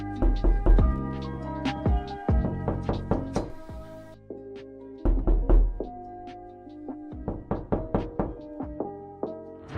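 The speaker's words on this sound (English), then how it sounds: "Did you just get tricked into thinking someone was knocking on your door?" Knocking on a wooden door, recorded realistically: bursts of several sharp knuckle raps in quick rhythmic groups, separated by short pauses, close and crisp with no talk.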